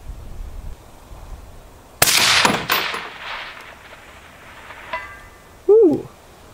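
A rifle is fired at a long-range target in wind. One sharp, loud crack rings out, followed by a ringing metallic echo, and a brief faint clang comes moments later.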